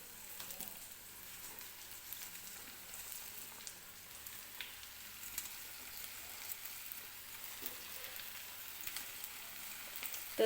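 Chopped onion greens fry with roasted green chillies in a pan over medium-low heat, giving a soft, steady sizzle and crackle with faint stirring, quiet and continuous.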